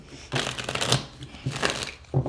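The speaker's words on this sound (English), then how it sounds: "Let me get one more shuffle." Tarot cards being shuffled during a Sagittarius reading: two bursts of riffling and slapping card noise, close and fairly loud, with a third shuffle starting at the end and no talk.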